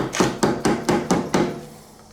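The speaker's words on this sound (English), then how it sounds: "Tap it here with a hammer." A hammer taps a shaft seal on a Super T-10 transmission: six evenly spaced, sharp metallic knocks, loud and close, with no talking.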